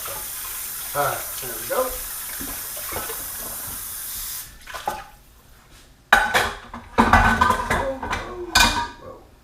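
Tap water runs into a sink while a sauté pan is scrubbed out, first in short splashy bursts and then in a louder, steadier gush. A person speaks briefly over it.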